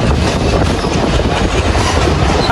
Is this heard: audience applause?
no